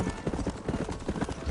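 Horse hooves clip-clop in Red Dead Redemption, a quick run of close, steady hoof beats filling a brief moment with low rumbling game ambience underneath.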